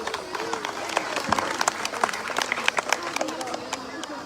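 An audience at a village Teeyan festival gathering claps steadily, with crisp, rhythmic hand claps over a bed of crowd noise and voices.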